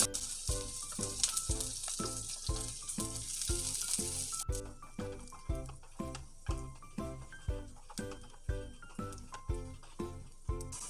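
Ginger and garlic fry in hot oil for homestyle butter pav bhaji, giving a loud, bright sizzle for the first few seconds that then drops to a softer crackle. A steady, rhythmic thumping beat runs underneath throughout.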